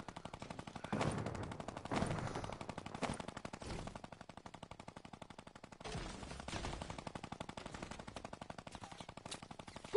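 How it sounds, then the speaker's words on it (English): Gunfire in a video game, bursts of rapid automatic shots with a few heavier single cracks, fairly faint and spread across the stretch with quiet gaps between volleys. "Someone's shooting at me."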